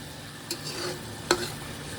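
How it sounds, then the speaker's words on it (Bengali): Onion-garlic paste, spices and salt fry in a pan for spicy pulao, an even close sizzle with two sharp scraping strokes of the spoon, no voices heard. "দিয়ে মশলাটা ভালোভাবে কষাই নিই"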